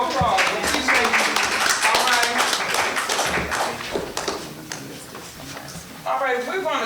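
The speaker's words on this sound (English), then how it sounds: "You all give her some more applause." An audience at a public meeting applauds with scattered hand claps, mixed in with people talking close by.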